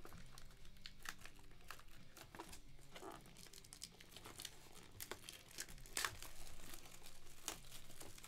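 Trading card boxes, 2021 Topps Triple Threads Baseball, being opened, with plastic wrap sealed inside the box crinkling and tearing in a steady stream of close, quiet rustles, a sharper rip near the end, and no talking.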